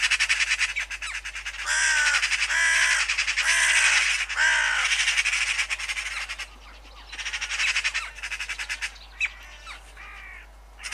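Magpies and crows mob a bird over an oat field in the UK in November, with loud, close, harsh squawks and caws coming in dense, repeated bursts that later thin to scattered calls.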